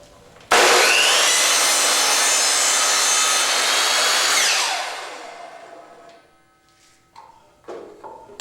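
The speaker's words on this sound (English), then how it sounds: "To do this, we're going to set the miter saw at a 45° angle," A miter saw set at 45 degrees slices through baseboard trim with one loud, sustained whining cut lasting about four seconds. The blade then winds down, and a few light knocks follow as the piece is handled.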